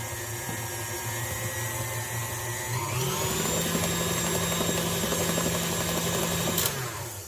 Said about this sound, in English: Mix it till it comes together